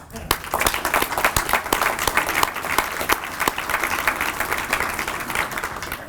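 Audience applause at the visitor entrance ribbon-cutting for a state capitol restoration project, a dense, steady wash of many hands clapping, fairly close and sustained for several seconds.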